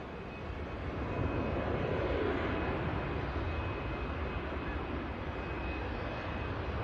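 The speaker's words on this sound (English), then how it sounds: "Rolling out the Lufthansa Airbus A321. Just landed on 23 right" Lufthansa Airbus A321 landing on runway 23 right at Manchester Airport and rolling out, a steady broadband jet roar with engine whine, loud and continuous throughout with no talk.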